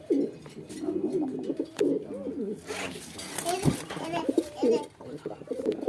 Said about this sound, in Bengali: এই যে দেখেন ডাকতেছে নর